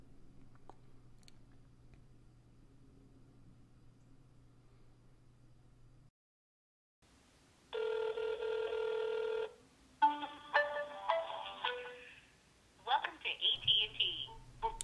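An iPhone places a call to AT&T: a steady tone burst, then a run of short dialing tones and ringing, fairly loud and close, after a low hum and a brief silence.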